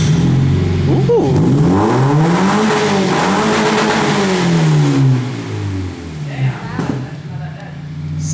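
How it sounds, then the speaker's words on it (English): A 2017 Subaru WRX engine revs loudly and repeatedly, pitch rising and falling through the exhaust, then settles to a rough idle with a few short blips. "You should just keep your exhaust like this."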